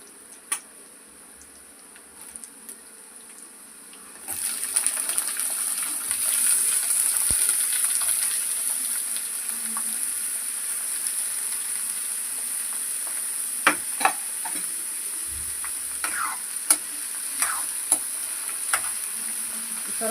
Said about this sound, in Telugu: సొరకాయ ముక్కలు అయితే వేసుకుందాం